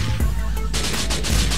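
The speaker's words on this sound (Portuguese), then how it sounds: "Tá trocando tiro comigo pelo carro, mano" Gunfire in GTA IV: a rapid burst of loud, sharp shots crackles over a low rumbling game background.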